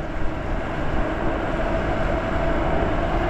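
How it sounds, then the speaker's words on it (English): Lyric Graffiti Class 2 e-bike at full throttle, around 25 miles an hour, giving a steady, loud rush of wind and rolling noise that holds constant throughout, with no voices. "So now here I go again, full throttle."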